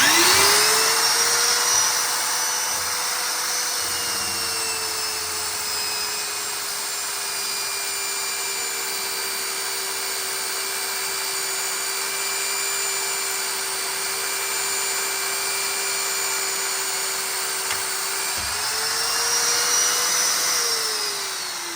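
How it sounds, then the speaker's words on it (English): A power drill bores holes in metal for custom four-link air ride suspension bars on a Chevrolet C3500HD truck, giving a loud, steady high-pitched whine that holds for about twenty seconds with a brief dip near the end. "Let's get this thing drilled."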